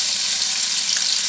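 Ground spice paste, coarsely blended, hits hot oil in a wok, giving a steady, dense sizzle that stays close and loud throughout with no talk over it.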